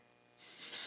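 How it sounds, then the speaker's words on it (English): Kristin Ess texturizing hair spray is misted onto medium-length hair at the root, a soft airy hiss that swells in from quiet and grows louder over a single short burst, with no talk. "With the texturizing spray, I can get more volume into it."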